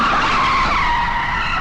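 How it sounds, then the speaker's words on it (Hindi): A speeding car brakes hard at a bend, its tires letting out a loud, continuous screech that holds steady and close for the whole moment. "अचानक ब्रेक्स के लगने की आवाज़ आई"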